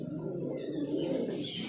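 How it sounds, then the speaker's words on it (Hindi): A pigeon at a Delhi pigeon shop gives soft, low, throaty coos over a steady background of other birds and room noise, fairly faint and continuous. "ये कबूतर है"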